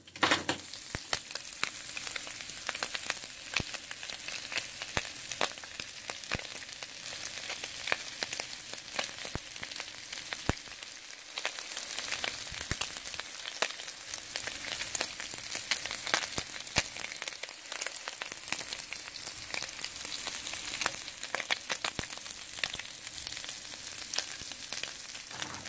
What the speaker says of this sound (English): since it's got a nice frying, and the more it gets cooked, the less the frying sound